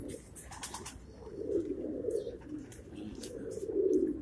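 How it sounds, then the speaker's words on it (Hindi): A rooftop loft pigeon in Karachi gives soft, repeated low coos, fairly faint and close, with light background noise and no talking. "मेहरों वाला कबूतर है"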